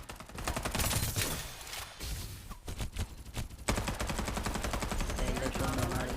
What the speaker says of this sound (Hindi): पीछे से गोलियाँ कोई चलाने लगता है